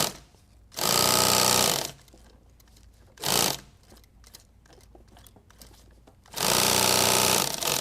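A sewing machine stitches and hems a pistol mag pouch, running in two long loud bursts separated by a short burst and quieter handling noise in between, close up with no talk.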